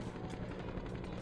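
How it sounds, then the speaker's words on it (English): Helicopter noise in the video game Interstate '76: a steady, loud, throbbing rotor drone filling the background without a break, with no talk. "Sorry about the helicopter noise in the background in this game."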